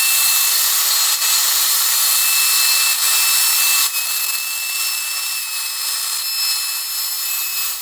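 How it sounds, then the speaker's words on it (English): A machine cuts a fish shape out of a wooden piece, giving a steady, loud high-pitched whine and rasp that runs throughout with no pauses and no talking. "I'm gonna put this in the machine and we're gonna cut out a fish"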